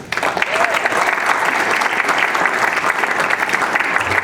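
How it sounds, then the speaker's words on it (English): A ceremony audience at the 2021 U.S.P.A. awards in Cleveland, Ohio, claps in a steady, full round of applause that holds at a strong level from start to finish, with a few voices mixed in. "how about a round of applause for the u.s.p.a. Board of Directors"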